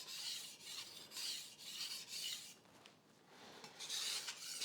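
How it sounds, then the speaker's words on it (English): A kitchen knife blade is rubbed along a sharpening stone in quiet, close strokes, each a soft rasping scrape in an uneven back-and-forth rhythm, heard alone with no voices. "I'm trying to make sure that the whole blade gets contact with the sharpening stone."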